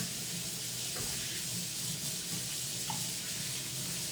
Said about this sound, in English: And I'm rinsing my hands again.